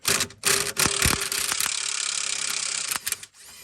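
A ratchet socket wrench clicks rapidly while working on the sway bar and rear lower control arm urethane bushings of a 1991 Audi Avant 20V, with sharp close pawl ratcheting in bursts, a few heavier metallic knocks early, then a steady run of fast clicks.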